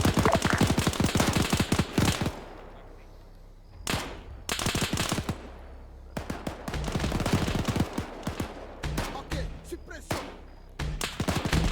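Rapid automatic gunfire from a tank in a World War II style video game, with dense bursts of sharp shots broken by short pauses and scattered single rounds.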